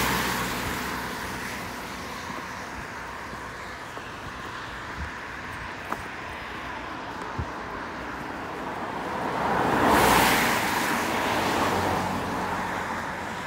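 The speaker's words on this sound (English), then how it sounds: "Crikey, these cars are going fast" Cars speed past on a road, a steady traffic rumble with one vehicle whooshing by loudly near the end, heard close from the roadside with no talking.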